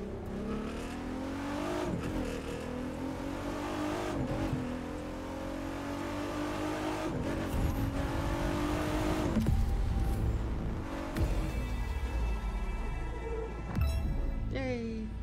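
A car in the racing video game The Crew 2 revs hard, with the engine note rising and dropping through repeated gear changes. The car slides and skids, and a sustained roar fills the track close up.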